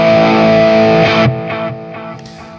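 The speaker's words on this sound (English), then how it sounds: "this one's an overdrive I came up with, a little bit more gain than the one on the other" Electric guitar through a higher-gain overdrive patch on a TC Electronic Nova System, a loud distorted chord ringing out, then several shorter choppy strums decaying, played alone.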